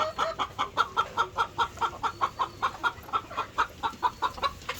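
Frightened chickens on a large farm give rapid, rhythmic clucks, a steady train of sharp calls about three or four per second, close and fairly loud.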